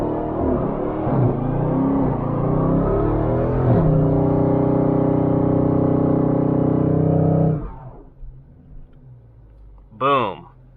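A Dodge Scat Pack's engine holds a loud, steady roar at high revs for about seven seconds during a line lock burnout, then cuts off abruptly, with a voice talking over it.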